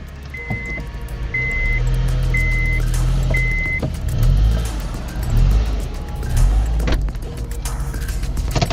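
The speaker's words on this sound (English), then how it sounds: "Go ahead, start the car, drive it up on the jack stands." A car engine starts and idles low, then revs up and rumbles steadily as the car is driven up onto jack stands, with a few short beeps early on.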